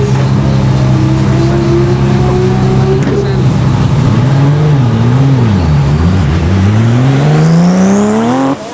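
A BMW drag car roars through a speed run at the strip, its engine loud and close with rising and dipping pitch through gear changes, then climbing steadily to the end, with a voice talking over it.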